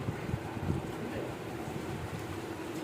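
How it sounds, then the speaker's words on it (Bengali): Strong wind blows steadily outdoors during the rainy season, a dense, constant rushing roar with gusty buffeting against the microphone and no voices. "কি হাওয়া দিচ্ছে এখন যেন আরো বেশি দিচ্ছে"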